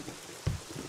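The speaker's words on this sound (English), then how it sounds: "Back outside and it's rainy." Rain falls steadily in the video game Home Sweet Home 2, a soft continuous hiss with one brief low thud partway through, no talking.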